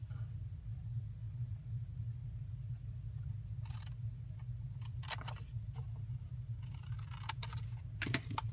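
Scissors snip through thin card while a paper favor box is cut out, a few soft crisp cuts and small clusters of clicks toward the end over a constant low background hum.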